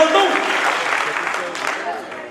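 Audience clapping at a live stage show, a brief burst of applause that fades slightly over a couple of seconds while voices carry through it.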